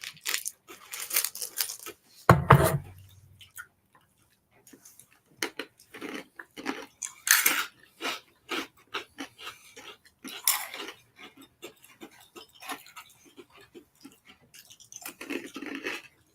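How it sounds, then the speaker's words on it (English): Crunchy snacks being chewed up close in bursts of crisp crunching and rustling, with one loud thump and a few quiet murmured sounds between bites. "They're crunchy."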